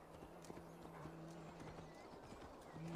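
Faint horse hooves clip-clop at a steady walking pace, with soft sustained musical tones in the background, from the video game Assassin's Creed Valhalla.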